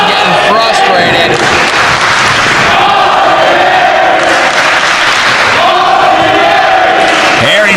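A wrestling crowd in Rahway cheers and shouts steadily through a six-man tag match, a loud, dense roar with rising yells and a few thuds, continuing without a break.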